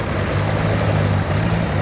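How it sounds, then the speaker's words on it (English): A miniature grey tractor fitted with a Morris 8 engine rolls past at a traction engine rally, giving a steady, loud, low engine drone with no break. "that is the little grey tractor, and that's actually got a Morris 8 engine in it"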